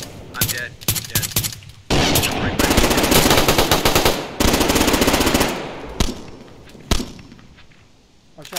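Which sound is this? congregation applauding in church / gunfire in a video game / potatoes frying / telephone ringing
gunfire in a video game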